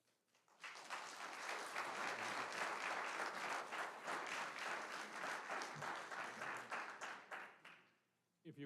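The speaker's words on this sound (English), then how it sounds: "If you would please hold your applause" A crowd in a town plan commission meeting room bursts into sustained applause, many hands clapping densely for about seven seconds before it thins out and fades.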